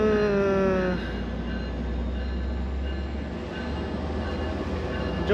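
Rumble of a moving Amtrak train heard from inside a carriage, with a brief squeal of wheels at the start fading into steady rolling noise.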